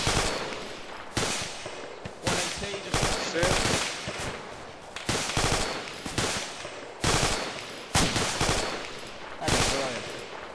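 Light machine gun fire in a military video game, repeated loud bursts of rapid automatic shots with brief pauses between them, close and sharp throughout.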